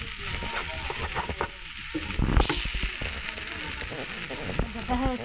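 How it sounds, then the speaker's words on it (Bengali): Noodles stir-fried in a pan with onion and egg, a steady sizzle and scraping of stirring running throughout, with a brief louder burst midway. "ভালোভাবে নুডলসটা ভালো করে মিশিয়ে নেব ওই পেঁয়াজ এইগুলোর সাথে, ডিম সব"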